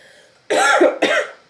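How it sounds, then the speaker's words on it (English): A single close cough in two quick bursts after a moment of quiet room tone. "I'm trying not to cough through this whole thing"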